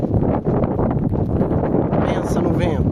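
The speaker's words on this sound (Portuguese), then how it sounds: "Pensa no vento." Steady wind roars across the microphone at a riverbank campsite, a continuous loud rushing that stays broad and unbroken for the whole stretch, with voices talking faintly underneath.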